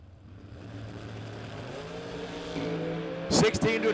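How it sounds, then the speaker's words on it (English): Drag race launch from a Chevrolet Lumina and a dragster, engines building in a steady rising roar that swells near the end with a sharp burst of loud, harsh noise, while an announcer talks over it. "Gonna get chased by Vinny Domino in the dragster"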